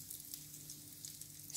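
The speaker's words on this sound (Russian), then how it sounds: "У меня в сковородке 2-3 столовые ложки растительного масла. И вот так вот мы будем их жарить." Cutlets fry in a pan with two to three tablespoons of vegetable oil, giving a steady, close hiss and crackle with no voices over it.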